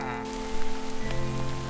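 Steady rain falls on a surface, a continuous wash of patter with a low musical tone humming beneath it throughout.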